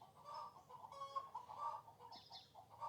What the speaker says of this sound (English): Yeah, you hear the chickens.